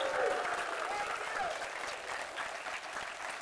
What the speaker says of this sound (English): I'm waiting for the clap